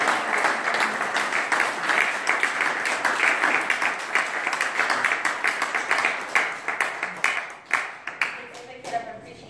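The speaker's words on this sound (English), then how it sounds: "You should be clapping." A crowd at a military retirement ceremony for an Air Force master sergeant bursts into sustained, fairly loud applause, then thins into scattered claps toward the end.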